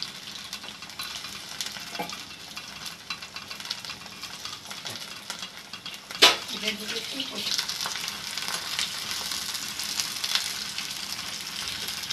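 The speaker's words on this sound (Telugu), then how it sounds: "ఈ రెండు కూడా ఆయిల్ హీట్ అయితే ఆయిల్లో వేపేసుకోవాలి." Coriander and gongura leaves fry in hot oil for egg gongura pachadi, making a continuous close sizzle with stirring scrapes and a sharp clatter near the middle, after which the sizzle grows a little brighter.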